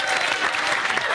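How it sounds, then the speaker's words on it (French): Audience at a live stage show applauds loudly and steadily in a short continuous burst of clapping. "Bravo à la team Amixem, on peut les applaudir encore."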